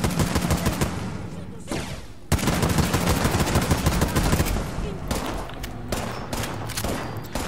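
Sustained bursts of automatic gunfire from a Fallout 76 firefight, loud and dense with rapid rattling shots, a brief pause near the middle before the firing resumes and continues with scattered heavy impacts.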